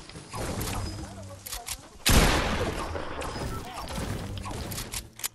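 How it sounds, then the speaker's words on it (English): Fortnite battle royale combat in an arena duos match: rapid bursts of in-game gunfire, with a loud cluster of shots midway over continuous game ambience. Players chat over the action. "Was that a missed shot?"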